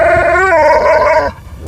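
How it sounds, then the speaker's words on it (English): A dog lets out a close, drawn-out howling whine that rises and wavers for about a second before cutting off. "I thought we got a dog."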